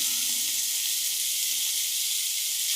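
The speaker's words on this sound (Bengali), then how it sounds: "আমি বেগুনগুলোকেও একটু ভেজে নিচ্ছি" Eggplant frying in oil, a soft, even, steady sizzle with no other sounds.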